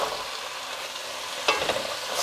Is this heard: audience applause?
no